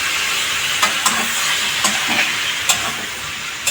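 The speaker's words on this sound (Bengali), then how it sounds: "জল দিয়ে কষিয়ে দিচ্ছি" Spice paste sautéing in a pan with a splash of water for a vegetarian drumstick and cumin curry: a steady, close hiss with occasional sharp scraping clicks from stirring, no voices.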